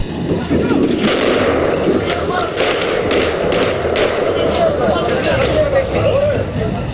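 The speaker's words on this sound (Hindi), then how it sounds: "इसके बाद दोनों तरफ से गोलीबारी और भी तेज हो जाती है।" Rapid, dense gunfire crackles on without a break during a gunfight between attackers and Afghan and Indian security forces, loud and sustained, with voices mixed into the chaotic din.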